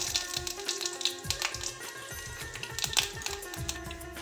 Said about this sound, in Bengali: এবার সরিষার তেল দেব পাঁচফোড়ন আর শুকনো লঙ্কা